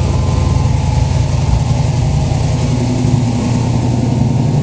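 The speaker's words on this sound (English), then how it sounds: "a great tone from the 3-inch exhaust all the way back. Let you hear it running." A 1950 Ford F100 hot rod idles through a 3-inch exhaust with a steady, close, deep rumble that holds an even tone throughout, with no talking.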